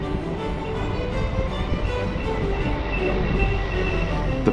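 Passenger train travelling from Goslar to Berlin, heard from inside the carriage: a steady, loud rumble with low wheel drone and faint rattling, continuous throughout with no talking.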